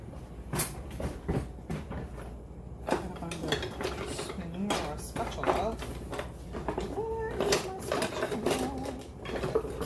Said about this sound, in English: I'm going to dump this into a dry bowl